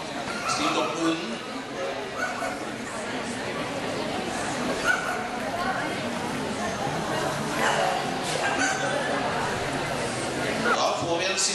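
Several dogs bark and yip at an indoor dog show, short barks scattered across a constant crowd murmur and commentary over a public address system.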